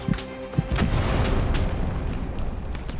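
A tank destroyed by a large explosion in the World War II shooter Hell Let Loose, one deep boom swelling into a sustained loud rumble that fills the scene, preceded by a couple of sharp pops.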